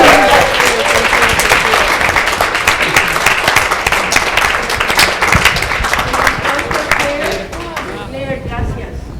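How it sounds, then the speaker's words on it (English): Big round of applause from an evening summit audience, loud, dense clapping with scattered cheers and voices that thins out and fades near the end. "Let's give everyone a big round of applause"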